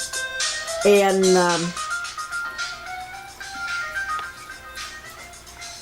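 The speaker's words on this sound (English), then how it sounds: "sorry about the phone." A telephone ringtone trilling in a short electronic burst, then sounding more faintly on and off beneath continuing conversation as people talk over it.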